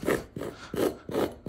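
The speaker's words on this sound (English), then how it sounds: "We're just loosening it up right now, making it wonderful with just a fork." A metal fork scrapes across a flattened carpet to loosen the pile, making four rough rasping strokes in an even back-and-forth rhythm, close and moderately loud with no talking.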